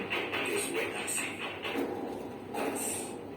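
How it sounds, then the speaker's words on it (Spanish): A horse trots in a two-beat diagonal gait, its dry, energetic hoofbeats landing in a quick steady rhythm against a wash of broadband background noise. "La marcación por bípedos diagonales de los 2 tiempos produce un sonido seco y enérgico que suena así"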